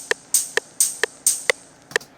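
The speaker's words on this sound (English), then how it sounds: "So you need an open hat sound." An open hi-hat sample in a house-style pattern, programmed in FL Studio: about eight crisp, bright hits, some short and some ringing longer, repeating in a bouncy rhythm with no voice over them.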